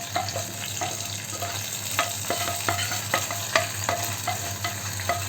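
Garlic tempering sizzling in hot oil for sambar, a continuous loud crackle with repeated sharp spits and pops and occasional stirring clinks, close by, with no talking.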